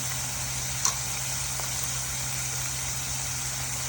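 Paneer with turmeric, salt and chili powder fries in a pan, giving a steady, moderately loud sizzle that runs unbroken, with a low constant hum underneath and one brief clink.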